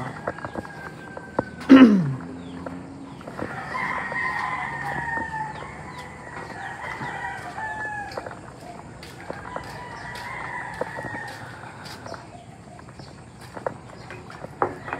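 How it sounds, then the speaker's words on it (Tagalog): Rooster crows ring out in the distance, one early and others following, with scattered clucking of chickens in between; no talking. "Kung may mga narinig po kayong manok, ayun po yun, mga manok."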